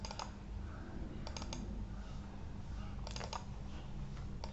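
Someone types a file name on a computer keyboard, producing short clusters of quick, close key clicks separated by pauses over a steady background hum.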